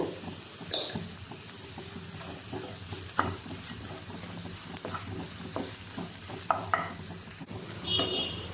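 Chopped onion sautéing with salt in a pan for a dosa chutney, a moderate sizzle broken by repeated scrapes and knocks of a spoon being stirred through, with no talking.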